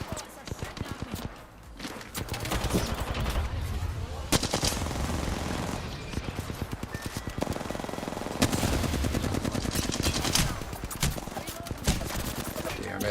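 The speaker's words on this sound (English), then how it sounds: "Bots are shooting at me." Bots in Apex Legends firing rapid bursts of gunfire close by, sustained crackling volleys and single shots running throughout, with voices talking over the shooting.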